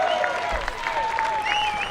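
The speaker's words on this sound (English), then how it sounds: "One more round of applause." Audience applauding a two-time World Long Drive champion at the 2016 championship final, a steady wash of clapping across the whole stretch with a tonal whistle-like line and crowd noise mixed in.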